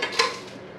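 Metal fry pans from an RV cookware set with detachable handles clink and scrape faintly as they are handled, one brief knock standing out over a soft background hiss.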